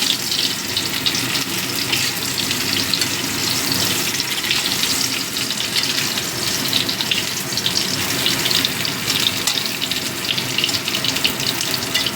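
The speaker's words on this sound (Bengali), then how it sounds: "এবার ওই একই তেলের মধ্যে আমি ফুলকপিগুলো ভেজে নেবো" Cauliflower frying in oil left over from frying fish makes a loud, continuous bubbling sizzle that is close and steady throughout, with a rushing, water-like quality.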